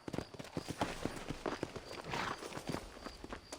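Horse hooves from the Red Dead Redemption video game clop in an uneven, fairly close rhythm. A brief swell of background noise rises midway.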